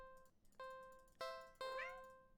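Cat in a video game meowing, several short tonal meows in a row, clear and close, with one rising into a drawn-out plaintive cry.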